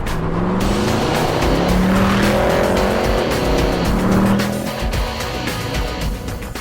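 A 2008 Mercedes-Benz C63 AMG brakes hard from speed with loud, sustained tire squeal over a roaring engine, the squeal rising and wavering before fading as the car slows.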